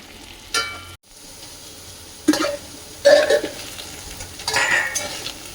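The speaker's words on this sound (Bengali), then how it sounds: "এই যে আলুটা ঢাকা দিয়ে ভেজে নিচ্ছি" Potatoes frying in a covered pan with a pinch of turmeric, giving a soft steady sizzle broken by a few louder bursts of stirring and lid or utensil clatter, close by with no talk.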